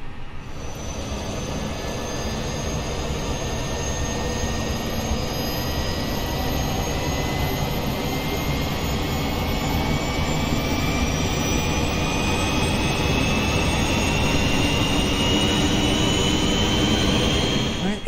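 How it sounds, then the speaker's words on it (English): The auxiliary power unit of an Airbus A320neo spools up in Microsoft Flight Simulator 2020, a loud, steady turbine whine that builds gradually with rising tones over a broad roar. "APU is spooling up."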